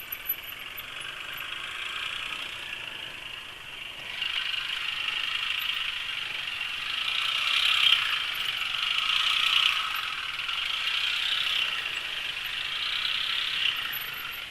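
A Honda PCX motor scooter engine, contaminated with old oil, runs steadily with a rough, rattling mechanical whine, its pitch rising and falling slightly over time; no voices.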